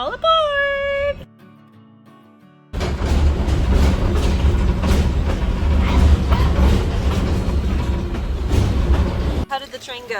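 A train runs past with a steady heavy rumble and clatter for most of the stretch, preceded by a brief tonal horn-like toot and a lull; voices are heard around it.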